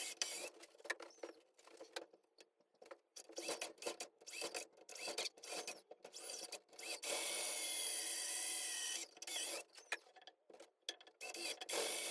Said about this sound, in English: after a ton of chiseling, you get it squared out